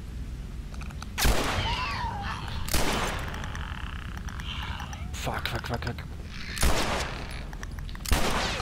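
Loud gunshots in the video game The Last of Us Remastered on PS4 crack out in sharp bursts a few seconds apart, while a man swears repeatedly under his breath between shots.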